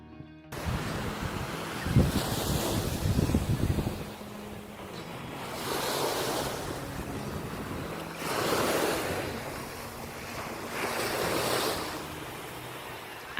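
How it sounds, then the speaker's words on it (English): Surf at Batu Feringgi Beach on the north coast of Penang Island, Malaysia, with waves breaking and washing in roughly every two to three seconds, swelling and fading under steady wind buffeting the microphone. "Here is Batu Feringgi Beach in the north of Penang."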